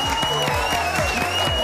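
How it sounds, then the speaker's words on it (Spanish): Applause at a Chilean fashion talk show, with models presenting a clothing brand: dense clapping throughout, under a bright musical tone and faint voices, fairly close and steady. "le damos un aplauso"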